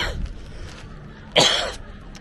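A man outdoors near castle walls in Nottingham, England, gives a short cough, an early throaty burst followed by a louder, sharper cough a moment later against quiet background.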